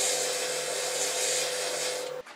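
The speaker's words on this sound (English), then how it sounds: "a little sanding. We're going to go through all the grits." A wood-turned Easter bunny is sanded on a spinning lathe: a steady, close rasping hiss rides over a constant motor hum, then breaks off abruptly just before the end.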